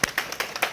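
A few scattered claps from a small audience at a maternity class prize draw, four sharp separate hits in a short burst, close and moderately loud.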